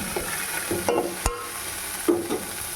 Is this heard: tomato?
yes